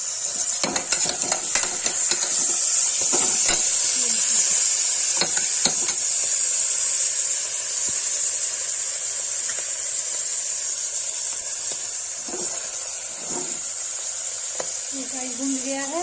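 Kashmiri saag, haakh greens with turmeric, sizzles and hisses steadily in a pan, with sharp stirring scrapes clustered early and scattered through the rest.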